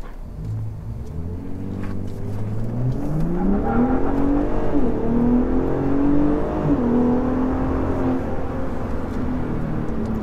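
A Gen3 Ford Raptor pickup truck accelerates hard, its engine rising through the revs with audible gear shifts, loud and close from inside the cab, with no talk.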